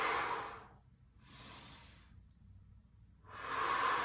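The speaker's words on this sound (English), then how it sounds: "Exhale out, inhale on the way down." Slow, controlled breathing during dumbbell bicep curls: two long hissing exhales and an inhale, close and clear with quiet pauses between them.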